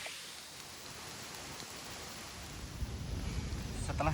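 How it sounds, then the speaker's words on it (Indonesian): Light drizzle falling in a tropical rainforest on Mount Halau Halau in South Kalimantan, a soft, even hiss of rain that holds steady and grows slightly fuller near the end. "Sekarang gerimis, padahal tadi panas."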